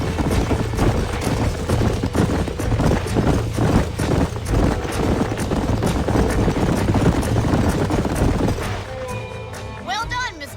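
Horses' hooves clip-clop in Red Dead Redemption, a steady, loud rhythm of dense hoofbeats over busy outdoor ambience that thins out near the end.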